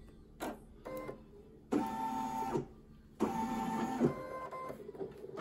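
An embroidery machine stitching the small red parts of a Minnie Mouse design gives a steady mechanical whirring hum in several runs of different length, broken by short pauses, with no voices.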